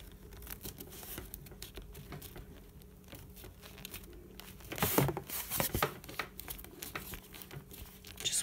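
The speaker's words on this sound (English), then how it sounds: "Just want to soften that cardboard up." Cardboard bent and crumpled by hand to soften it for a craft paint brush and pen holder, with soft crinkling and patter building into louder, denser crunching bursts in the second half, close up over a low steady hum.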